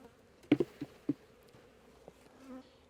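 Honeybees buzz softly around a hive being split as frames are handled, with a low hum under several sharp wooden clicks and knocks from the frames being set down, close and fairly quiet.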